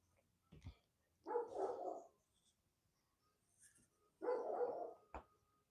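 Two bursts of dog barking indoors, each lasting under a second, separated by a pause, with a few faint knocks and clicks between them and no talking.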